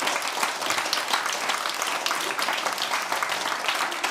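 A concert audience claps steadily and densely for several seconds after a performance at a music lecture event. The even applause carries no cheering and no speech.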